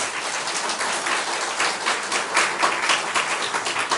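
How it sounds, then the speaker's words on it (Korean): Church congregation giving loud, sustained applause, a dense crackle of many hands clapping at once that fills the room evenly from start to end. "박수를 좀 한번 크게 쳐주세요"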